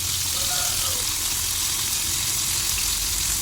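Prawns frying in a pan give off a steady, dense sizzle that runs unbroken at close range, with no talking over it.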